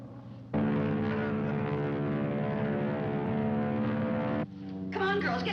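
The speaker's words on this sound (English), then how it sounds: "I can't see the plane, but I can hear it" A propeller airplane flies unseen overhead, a steady loud droning engine hum lasting several seconds before cutting off, followed by a brief noisy rustle.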